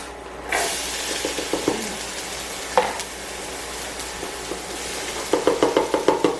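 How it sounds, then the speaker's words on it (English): Peppers hit melted butter in a pan for Philly cheesesteaks, a loud close sizzle that flares as they drop in, with stirring scrapes and a quick run of knocks against the pan toward the end. "You hear the sizzle, so I'm gonna go ahead and throw the peppers in there."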